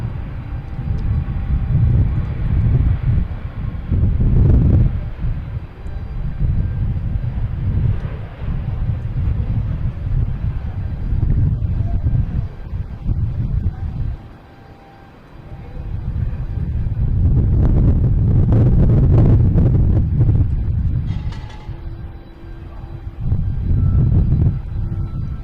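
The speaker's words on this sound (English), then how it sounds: "Also have a Delta connection coming in from LaGuardia. E175." Delta Connection Embraer E175 jet approaching Boston Logan, a distant rumbling jet roar that swells and fades with wind buffeting the microphone, rising to a louder surge near the end.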